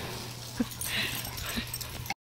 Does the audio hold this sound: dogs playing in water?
yes